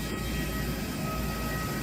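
Vietjet airliner jet engines roar steadily at the airport in Ho Chi Minh City, a dense, continuous whine and rumble filling the clip without any break.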